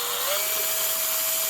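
A power drill spins a small bottle of car touch-up paint clamped in its chuck, giving a steady close whirring hum with a rising then constant motor tone, loud and continuous.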